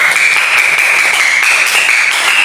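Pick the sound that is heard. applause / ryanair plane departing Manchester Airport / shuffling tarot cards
applause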